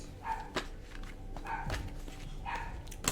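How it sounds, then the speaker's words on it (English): A pet dog barks repeatedly indoors during a tarot card reading, sharp yips at moderate distance landing in irregular bursts over low room noise, with no talking. "I'm sorry about my dog if y'all can hear that."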